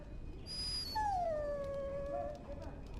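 A dog in the video game Dragon Age Origins lets out one long, drawn-out whine that slides downward in pitch, following a brief high whimper. It is heard alone and close over a steady background hum.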